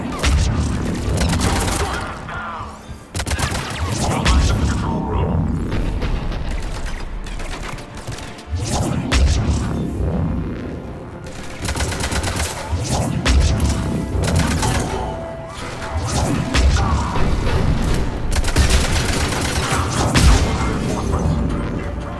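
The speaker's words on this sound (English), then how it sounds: "The cannon fire is clearing the way." Continuous battle din from the video game Mass Effect 3, with heavy cannon fire and rapid gunfire, booms and crashes layered densely throughout.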